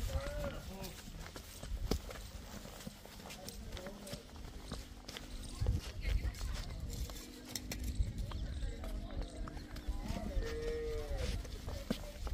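Cows and a buffalo on a dairy farm moo several times, with lowing calls rising over shuffling hooves and general farmyard noise while people talk nearby.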